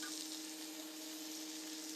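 Steady, quiet sizzling of meatballs frying in a pan, a continuous hiss with a faint hum underneath.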